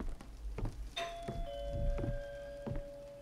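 A doorbell rings in the horror video game Visage, with a clear sustained electronic chime tone. It rings among several dull thunks and knocking footsteps, with a low rumble underneath and no talking.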